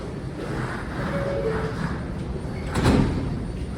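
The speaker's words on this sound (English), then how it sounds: "Stand clear of the closing doors, please." Doors of an NYC subway G train sliding shut, a rolling rumble of the doors with a firm thud near the end, set against steady train and platform noise.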